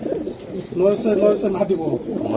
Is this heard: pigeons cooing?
yes